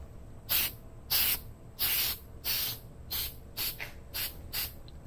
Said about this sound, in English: I'm going to use this black spray paint